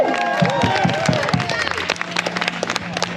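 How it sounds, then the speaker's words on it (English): An audience at a live show breaks into applause and cheering: a voice first, then scattered claps that thicken into a burst of clapping and whoops. "Let's give her a big round of applause,"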